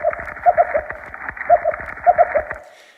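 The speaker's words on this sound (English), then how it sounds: "This is the sound of an ambon damselfish." An Ambon damselfish on a coral reef, recorded underwater, gives clusters of short, buzzy, pulsed chirps in three quick bursts, fairly loud and close, with a faint background hiss.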